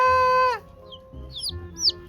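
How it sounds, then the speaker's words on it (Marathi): A large village rooster clucks a few times close by, after a sustained tonal sound fades out, with faint bird chirps around it. "कोंबडा आला कोंबडा. मोठा कोंबडा आहे."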